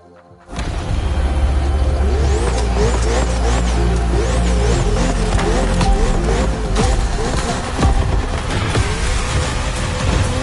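Ferrari and Red Bull racing car engines in a video game scream continuously and loudly, revving up and down in repeated rising and falling whines.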